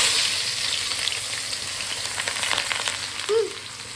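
Chicken and chopped onion hiss and sizzle in hot oil in a home kitchen pan, with a steady crackle and a faint stir or clink near the end.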